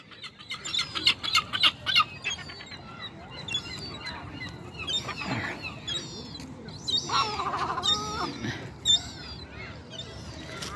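Seagulls on Conwy town beach squabble in a noisy screaming match, shrill overlapping calls bursting out close by in irregular flurries, with other birds and a faint wash of beach background underneath.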